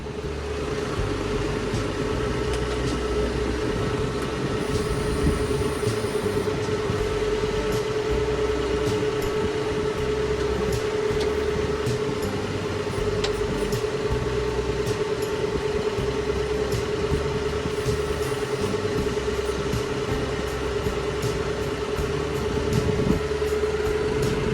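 Steady drone of a tractor cab with air conditioning and a radio running while feeding hay to cows, a constant loud hum with a faint tonal line and no talking.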